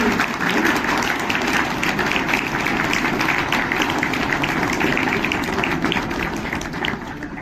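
Sustained audience clapping fills a school hall during an honouring ceremony at a maths and science exhibition, dense and steady for the full length with no talk over it.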